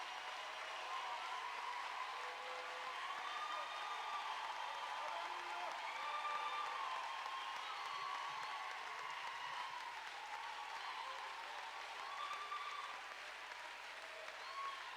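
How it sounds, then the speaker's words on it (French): A large church congregation applauds steadily at a Thursday evening service, a dense, continuous wash of clapping that holds evenly throughout with faint crowd murmur underneath. "Acclamez le Seigneur."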